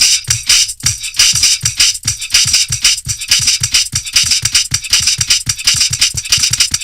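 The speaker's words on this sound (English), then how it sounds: "So if we just play these drums." A fast, sped-up drum loop plays in Ableton with dense rapid hits, steady loud bright percussion and low kick thumps repeating in a tight, busy rhythm, with no voices.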